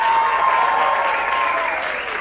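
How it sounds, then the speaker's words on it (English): Steady applause from an audience for a middle school and high school band at an end-of-year band presentation, a dense wash of clapping that gradually fades, with a voice faintly heard over it. "a big round of applause for the middle school and high school band"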